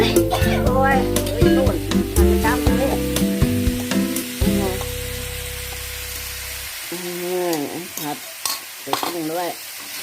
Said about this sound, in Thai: ใส่กุ้งด้วย ผัด